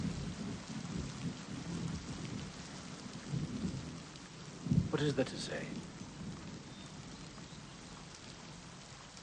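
Steady heavy rain pours down while thunder rumbles low, with one louder crack partway through, and a voice speaks briefly over the downpour.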